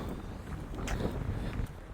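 Strong wind buffets the microphone outdoors, a constant low roaring rumble with gusty swells and a few faint thumps like footsteps.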